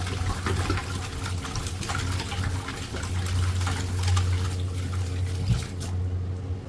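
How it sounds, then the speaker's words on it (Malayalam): Running water splashes steadily over mutton pieces being washed, a close, continuous trickle and gush lasting throughout with a low hum beneath and no talking. "വീണ്ടും മട്ടൻ കഴുകുന്നു"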